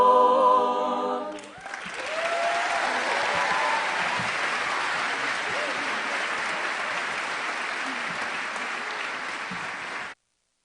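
Sustained audience applause at a 2018 high school graduation ceremony, a loud, steady wash of clapping from a large crowd that fills the hall after a brief opening moment, continuing evenly for about nine seconds before cutting off.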